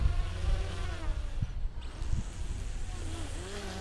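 Small XK X252 Shuttle 3D-flying drone buzzing in flight with whining propellers, a steady insect-like drone that surges and dips as the throttle changes, fairly close and continuous.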